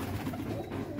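Domestic pigeons cooing at a loft where the birds are kept, a soft continuous murmur of low coos running through the whole second without any talk.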